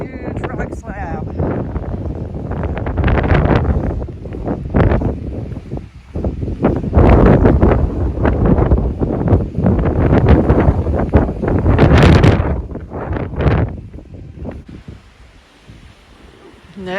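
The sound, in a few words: strong wind on a rock slab, Appalachian Trail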